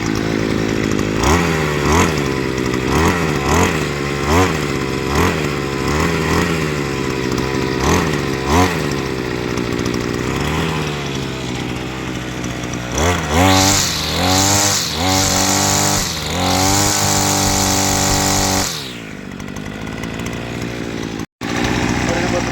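A petrol brush cutter engine runs loudly and close, revving up and down in repeated surges before a sharper high-revving burst and a sudden drop near the end, with someone talking over it.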